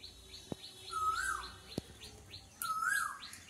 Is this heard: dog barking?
no